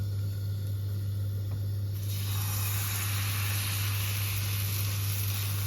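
Thin pancake batter sizzling in a hot frying pan, a steady hiss that grows brighter and louder partway through and continues.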